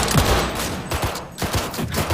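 Rapid automatic gunfire from a Cyberpunk 2077 firefight, dense bursts of loud, close shots rattling almost continuously with short gaps, heard without voices.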